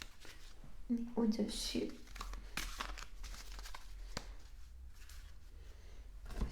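Tarot cards being placed and shuffled on a table: soft papery rustles, slides and crinkling taps in irregular bursts, close and quiet, under someone speaking French.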